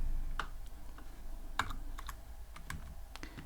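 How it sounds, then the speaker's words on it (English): Python code for a tic-tac-toe game being typed on a computer keyboard: quick, uneven clicks and clacks of keys up close, with short pauses between bursts and no talking. "So I'm going to type here"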